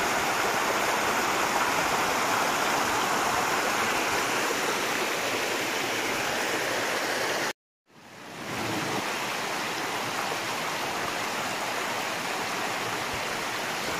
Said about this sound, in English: But this is the water coming out of the walls.